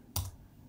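A single quick keystroke cluster on a computer keyboard while a command is entered, one short sharp clack in a quiet room.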